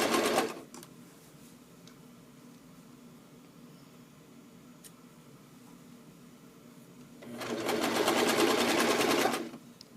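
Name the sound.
sewing machine stitching wool longies casing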